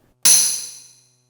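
One tambourine strike from an Alesis Sample Pad 4 at maximum reverb, with a long, washy tail, the bright jingle ringing out and fading slowly over nearly a second.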